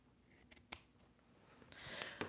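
Scissors trimming scrap fabric for a fabric basket: a few quiet, sharp snips spaced apart, heard close up in an otherwise quiet room.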